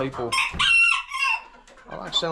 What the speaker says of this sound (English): Are you laying me an egg, Crow?